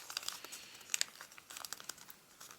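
Origami paper for a fox bookmark being folded and collapsed, giving soft, close crinkles and crisp crunching taps scattered through the moment, with no voices.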